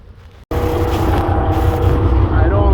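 Diesel engine of a 2017 Kenworth W900 truck fitted with a K&N air filter, starting abruptly and settling into a loud, steady, deep idle rumble close by.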